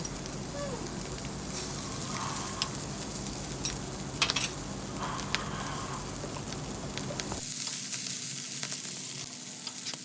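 Murtabak fries in oil with egg on a flat tawa, giving a loud, steady sizzle and crackle with scattered pops, the noise dropping suddenly to a quieter hiss near the end.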